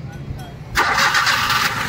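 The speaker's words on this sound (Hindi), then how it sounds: "लगाओ सेल्फ, लंबा सेल्फ ले रही, लेकिन गाड़ी स्टार्ट नहीं हो रही है" A Maruti Wagon R with a CNG and petrol engine that refuses to start cranks on its self starter, a loud, close, steady whirring crank kicking in partway through and running to the end.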